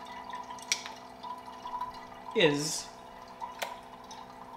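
Water trickles and drips from a SANS reverse osmosis purifier as a container fills, with a rising gurgling pour at the midpoint over a steady electrical hum; someone speaks briefly.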